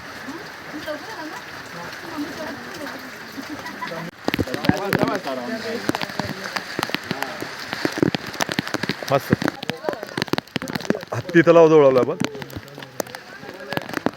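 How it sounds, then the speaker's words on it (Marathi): Heavy monsoon rain pours at Raigad fort near the Hatti lake, a steady dense hiss that runs through the whole stretch while people talk and move close by, with louder bursts of activity partway through. "आणि जबरदस्त असा पाऊस"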